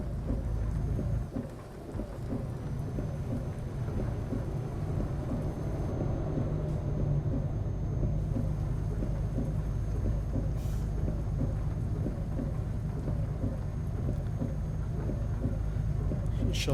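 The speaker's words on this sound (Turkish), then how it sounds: "Yani yağmur da maşallah bir bastırdı, pir bastırdı gerçekten." Heavy rain pours down with rolling thunder in Euro Truck Simulator 2, a steady dense wash of rain on the truck with deep rumbles throughout and a brief crack near the end, no talk.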